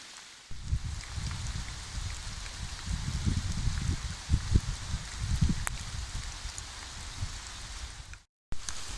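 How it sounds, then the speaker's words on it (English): Heavy rain falls during a bikepacking ride in the Netherlands, a close, constant broadband hiss with gusty low rumbles running underneath, cutting off briefly near the end. "The rain picked up."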